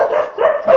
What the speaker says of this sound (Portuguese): tem muito cachorro aqui